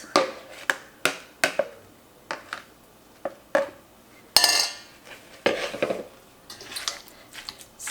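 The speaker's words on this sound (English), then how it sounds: "So I'm just going to go through with a potato masher" A potato masher mashes apricots in a pan while jam is being made. It makes a series of close, sharp metallic clanks and scrapes in an uneven rhythm, with no talking.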